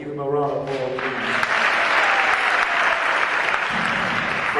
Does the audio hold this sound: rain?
no